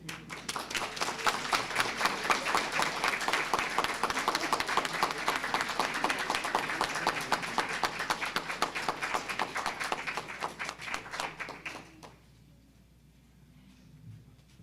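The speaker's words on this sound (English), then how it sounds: "Let's give them another round of applause" A steady, dense round of audience applause at a library literacy program graduation ceremony, many hands clapping evenly for about twelve seconds before stopping abruptly, leaving quiet room tone.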